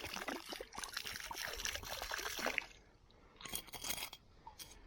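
Liquid glugs and trickles out of an old screw-top whiskey bottle onto gravel for a couple of seconds, close and splashy, followed by quieter shuffling and crunching.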